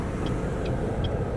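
A car cruises down the road with a steady, close low rumble of engine and road noise. Faint high chirps come through at intervals, and nobody talks.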